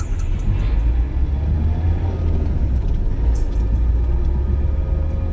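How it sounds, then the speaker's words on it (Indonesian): A car pulling away and driving off, rendered as a radio drama sound effect: a steady low engine rumble that holds fairly loud throughout, with no voices. "Mobil pun melaju"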